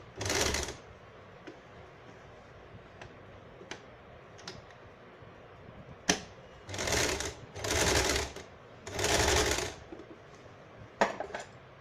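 A sewing machine stitches a label onto a casual shirt in four short, loud bursts of rapid needle clatter, separated by quiet pauses filled with light handling clicks and taps.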